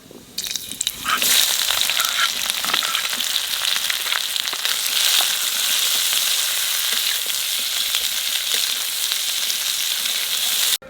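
Onion drops into hot oil already holding cumin and bay leaf, bursting into a loud, crackling sizzle that stays steady and close for the rest of the moment, with occasional stirring scrapes.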